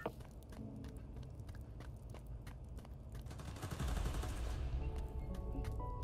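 Gunfire in the Spider-Man: Miles Morales video game, dense bursts of shots and heavy impacts over a constant low game rumble, with the action growing louder and fuller in the second half.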